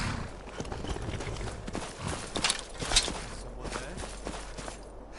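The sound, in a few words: horse hooves walking, Skyrim video game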